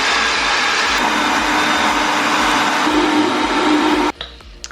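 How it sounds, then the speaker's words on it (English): A blender whirs loudly and steadily while blending a protein breakfast smoothie with cinnamon, running for about four seconds before cutting off abruptly into near quiet. "We're just going to stick this on the blender,"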